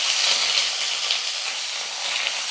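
Onion and curry leaves tipped into hot oil with spluttering mustard seeds give a dense, steady sizzle and crackle that stays loud and close throughout, with no voices.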